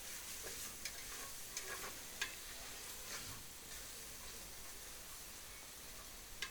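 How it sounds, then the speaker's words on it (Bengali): Blended onion paste frying in a pan, a steady soft sizzle with occasional stirring scrapes and small pops, close and continuous with no talking. "এখন খুব ভালোভাবে পেঁয়াজটাকে আমি ভেজে নিব।"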